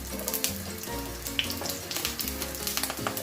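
Onion fries in oil in a pan with a steady crackling sizzle, sharp spits popping up now and then over a faint tonal background.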